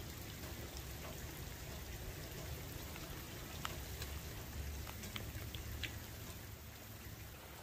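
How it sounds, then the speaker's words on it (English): Steady rain falls outdoors during a winter storm, a soft, even hiss of drops on surfaces with a few faint louder taps, distant and continuous with no voices. "That rain's here now."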